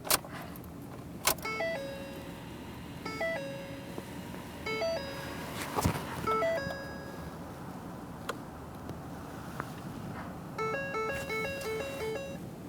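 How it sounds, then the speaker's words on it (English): On a Ford F-150 with the power just cycled back on, the rear parking brake caliper motors run in short, faint whirring bursts. A series of stepped electronic chimes plays over them, and sharp clicks mark the start of each cycle. "I could hear both of those caliper motors functioning properly"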